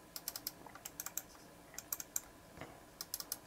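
Zowie ZA-12 gaming mouse buttons clicking up close, a quiet, irregular run of sharp little clicks in uneven bursts with no talking.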